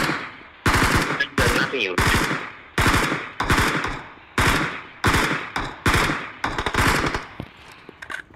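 Rapid automatic gunfire in the mobile battle-royale game PUBG Mobile, heard as repeated loud, sharp bursts of shots with brief gaps between them, while a player speaks briefly.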